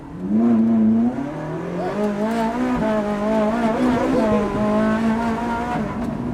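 A Ferrari 458 Challenge Evo race car accelerates hard from inside the cabin, its loud engine note rising and wavering through gear changes as the tires spin and squeal, while occupants talk over it.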